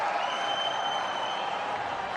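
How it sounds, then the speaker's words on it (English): Clapping from the Indian team bench at a cricket match, a steady broadband wash of applause mixed with crowd ambience and a faint broadcast tone, all at even level throughout. "he'll get generous applause from his teammates"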